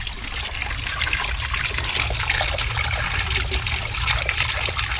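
Water from a mountain spring in the Small Beskid trickles and splashes steadily nearby, a continuous bright babbling with a low outdoor rumble beneath it.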